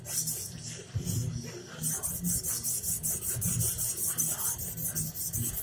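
An ulu knife being sharpened on a 400 grit stone, a steady rhythmic rasping of steel rubbing back and forth across the stone, close and continuous, with no talk over it.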